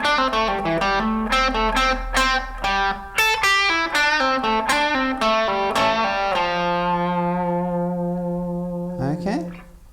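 An electric guitar with distortion plays a lick from a guitar solo: a quick run of plucked, bent notes ending on a long sustained tone, loud and close with no talk over it.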